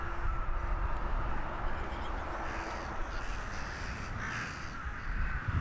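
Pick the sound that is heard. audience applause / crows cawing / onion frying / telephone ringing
crows cawing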